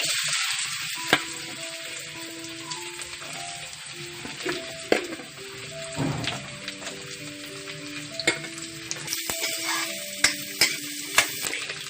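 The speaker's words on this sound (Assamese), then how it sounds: "তেলখিনি গৰম হোৱাৰ লগে লগে এতিয়া আমি গৰম তেলখিনিত কঁঠালগুটিকেইটা দি" Jackfruit seeds fry in hot mustard oil in a pan, making a constant, close sizzle with occasional sharp pops and ticks and a few stirring sounds, alone without speech.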